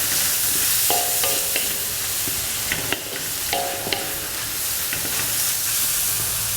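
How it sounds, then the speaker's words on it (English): Onions sizzle steadily in a hot pan for shrimp fried rice, with a constant frying hiss and a few sharp scrapes and clinks of a spatula stirring them. "I'm adding some onions."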